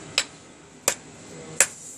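A tilted hammer strikes a 99.9 fine silver bangle bracelet: three sharp, evenly spaced metallic taps, close and crisp, over a quiet background.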